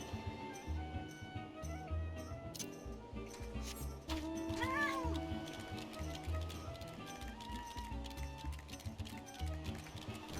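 A cat meows in Final Fantasy XIV. The call is a single clear one midway through, over busy game music with clip-clopping footsteps and other ambient game sounds.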